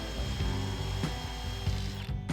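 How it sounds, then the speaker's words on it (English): A power drill bores through factory spot welds on a steel Jeepster panel, whirring steadily close up with brief rhythmic catches and clicks as the bit bites into the metal. "We should be able to just drill through those, and this plate should come off."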